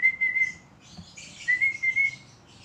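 Short, shrill pet-style whistles used as a cue in target training for a baby bird: two steady high tones, each roughly half a second to a second long, close and clear over faint low background rustle.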